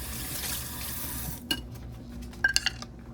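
Tap water runs steadily over ginger, bell pepper and onion in a sink, then stops, followed by a few faint clinks and knocks of handling.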